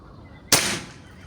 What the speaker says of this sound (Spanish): Bueno, Seba, vamos a hacer el primer disparo con balines de 25 grain en potencia mínima.